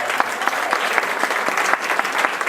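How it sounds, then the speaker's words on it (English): An audience breaks into a steady round of applause, dense and even clapping from a crowded room that holds at the same loudness throughout with no voices over it. "let's give her a round of applause."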